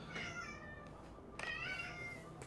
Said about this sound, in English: Cat making noise.